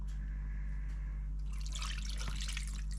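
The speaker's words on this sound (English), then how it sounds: "I'll go ahead and put a little more water in it just to get everything covered." Water pours steadily into a brine for deer meat, a close, soft trickle and splash that grows fuller partway through, over a low steady hum.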